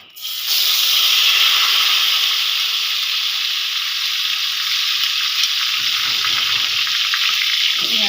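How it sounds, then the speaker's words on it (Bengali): Onion paste dropped into hot oil in a pan, a sudden loud sizzle that bursts in and holds steady as a broad frying hiss for several seconds, with faint stirring near the end. "এবার আমি দিয়ে দেব পেঁয়াজ পেস্ট"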